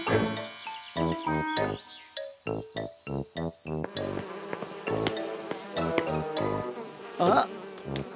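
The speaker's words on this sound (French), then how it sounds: "Il y a des mouches qui n'ont rien à faire ici. Des mouches dans une cuisine." Flies buzz around a kitchen in close, wavering drones that rise and fade. Bursts of music and other sounds cut across and mix in.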